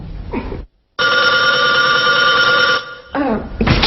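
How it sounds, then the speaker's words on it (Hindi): A telephone bell rings loudly and continuously for about two seconds, with speech before and after the ring in an indoor drama scene. "Excuse me, phone."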